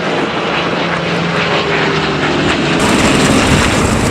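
A P-51 Mustang propeller fighter roars past at an airshow, its piston engine a loud, continuous drone that swells slightly toward the end with no voices heard.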